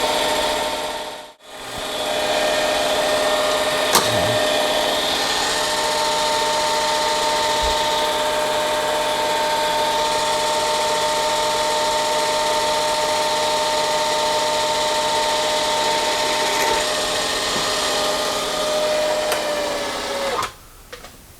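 Machine tool cutting through ductile iron, a loud, continuous grinding drone with a steady high whine that runs unbroken for about twenty seconds before winding down.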